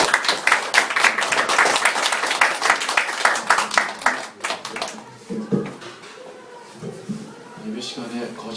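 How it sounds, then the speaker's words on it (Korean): Church audience applauding to welcome a visiting pastor at an Easter Sunday service, a dense burst of clapping for about five seconds that then fades into scattered sounds and murmuring. "저희 목사님을 이렇게 박수로 환영하겠습니다"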